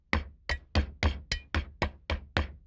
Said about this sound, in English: This is the easiest way to crush the nuts.